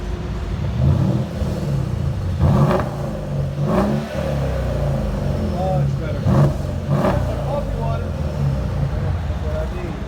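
A Mercedes CLS 550 with a 4.7-liter twin-turbo V8 on straight pipes growls loudly and steadily at close range, with a few stronger throttle surges, while people talk over the exhaust.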